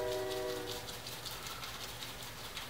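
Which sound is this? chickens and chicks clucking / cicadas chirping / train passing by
train passing by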